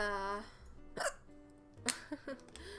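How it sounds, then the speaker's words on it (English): A single loud hiccup from a woman in a dating-sim game, sharp and close, set among other brief vocal sounds and soft background tones. "That hiccup was so loud, I'm so sorry."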